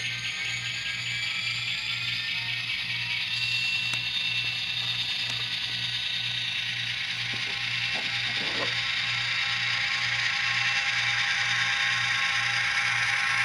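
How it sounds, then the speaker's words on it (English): Atlas model locomotive running with its dynamic brake sound on: a continuous mechanical whine and hum over a fast, regular rhythmic clatter, steady and close, with a few faint clicks and no talking. "Definitely hear the dynamic brake running."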